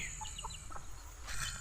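Farm chickens, with chicks among them, give a few soft, scattered clucks over a steady outdoor hum, faint and fairly close.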